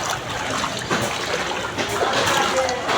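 Footsteps splash and slosh through floodwater covering a street after hours of rain, a steady continuous wash of water churning with each step.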